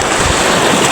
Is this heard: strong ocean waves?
yes